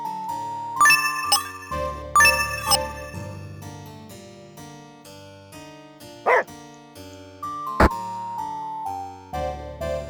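A cartoonish dog in the Murder Is Game Over video game barks in a few short, sharp yips over a plinking, jingly synthesized music loop.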